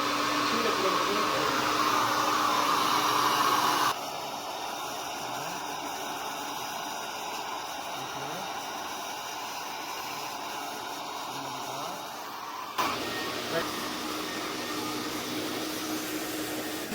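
A mattress-cleaning vacuum with a rotating brush runs on a bed, a loud steady whine and hiss that shifts in tone as the brush engages, then drops back near the end.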